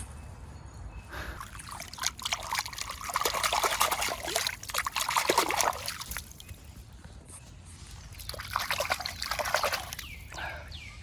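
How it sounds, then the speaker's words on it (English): Hands being washed in a small forest stream, with steady trickling and splashing water close by, swelling in brief bursts of sloshing as the hands move through it. "Just gonna wash up by this little stream."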